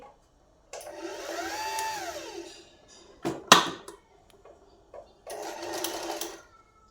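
An electric sewing machine stitching a saree fall runs in two bursts of steady whirring stitching, with a sharp clatter between them; fairly close and moderately loud, no talking.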